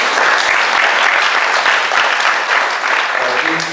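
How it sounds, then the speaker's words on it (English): A conference audience at a health programs event gives sustained, loud, dense applause for a panel, a steady wash of clapping with faint voices mixed in. "let's just say a round warm of thank you and applause for our panelists"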